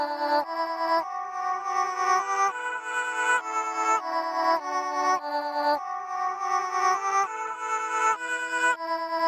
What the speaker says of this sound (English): Now that I have it as a waveform, I'm gonna reverse it.